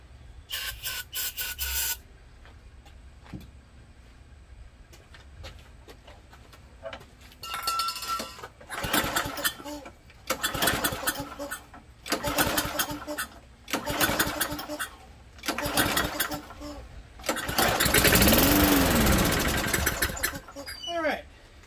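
An old lawnmower from a rummage sale pulls over in repeated bursts, then catches and runs roughly for a few seconds, loud and close, between quieter pauses with light clinking and talk.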